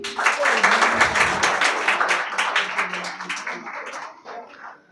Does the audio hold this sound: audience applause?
yes